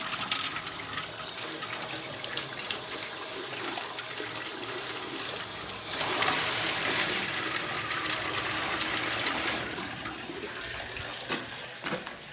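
Water gushes and sprays from burst pipes in a building stairwell during a staircase replacement job, a steady loud rushing hiss that swells even louder for a few seconds midway before settling back.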